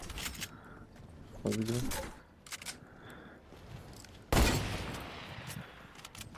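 Sniper rifle shots crack in a Fortnite match, two sharp bursts a few seconds apart, with other game noises and voices talking between them.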